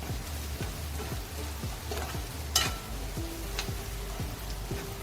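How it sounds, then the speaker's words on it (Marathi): Dried bombil fish and masala sautéing in a pan, with a steady sizzle under repeated rhythmic scraping strokes of a spoon stirring close by. "आता आपल्याला चांगलं परतवून घ्यायचं आहे."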